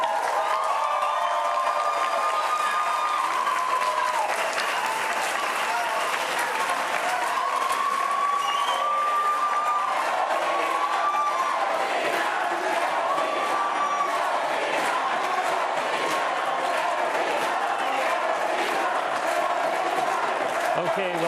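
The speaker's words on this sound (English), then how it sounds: "let's have the audience applaud you both." Debate audience at a Rhode Island Democratic gubernatorial primary applauding the candidates, with sustained crowd clapping and some cheering filling the whole stretch at steady loudness, no speech heard over it.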